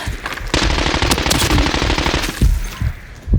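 Sustained automatic gunfire from a firefight in the shooter game Arena Breakout: Infinite, a loud, dense burst of rapid shots running almost continuously for over three seconds with a few heavier reports near the end.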